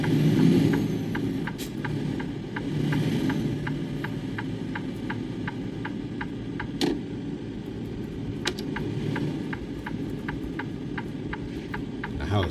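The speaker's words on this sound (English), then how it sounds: "all we gotta do now is just back this trailer in" A truck in American Truck Simulator backs a trailer in, its engine running at a steady low rumble throughout. Regular reversing beeps and a couple of sharp air-brake hisses sound over the engine, with no talk.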